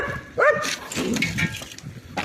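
Several dogs barking and yelping on a city side street in Kherson in winter, a sharp bark cluster near the start followed by scattered barks and whimpers at moderate distance.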